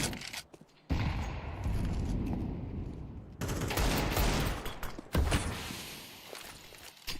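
Counter-Strike gunfire during a competitive esports match, rapid dense bursts of shots with brief pauses between volleys, loud and close within the game mix, with no talking.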